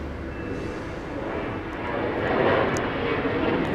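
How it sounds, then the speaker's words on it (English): Cathay Pacific Boeing 747-400 cargo jet landing at Los Angeles International Airport, a broad steady jet roar that swells gradually toward the end, fairly close with no voices. "747, Cathay Pacific going long."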